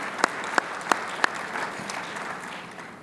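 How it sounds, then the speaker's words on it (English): Audience applause at a golf awards luncheon, heard as a few sharp separate claps over a soft, scattered patter that fades after about a second and a half, fairly quiet and distant. "Please join me in a round of applause for the low scoring average award winner for 2022, Zach Steffen."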